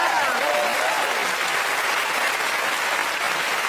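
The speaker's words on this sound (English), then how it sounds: "Give him a round of applause" A studio audience at a motoring show claps and cheers loudly and steadily throughout, a dense wash of applause with no break.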